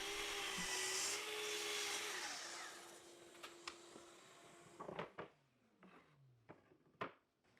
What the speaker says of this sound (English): we just went right over to the miter saw and cut each one of those pieces to their rough length